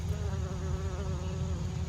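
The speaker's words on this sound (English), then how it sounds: "There's a bumblebee." A bumblebee buzzes steadily and close around sumac flowers on a park hike, a continuous droning hum with no talking.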